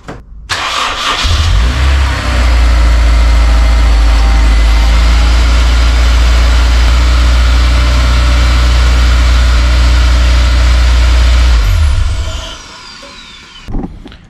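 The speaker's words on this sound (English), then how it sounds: "I'm actually going to look at starting the car with everything else still disconnected, because I think it will sound interesting." A Honda S2000 fires up after a timing chain tensioner rebuild, cranking briefly before catching into a loud, steady idle that runs for about ten seconds, then cuts off, followed by a short clunk.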